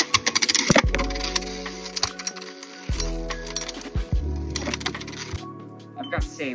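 Beyblade X spinning tops launched into a stadium and clashing in a tournament battle, a burst of sharp metallic clinks and rattling hits at the start followed by continuous whirring and scattered impacts.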